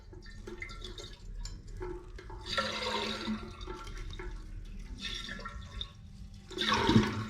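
A rusty toilet with a worn lever handle and chain flushes in a bathroom: a loud rushing swirl of water with surges and gurgles, then a refill trickle, close and steady with no talking.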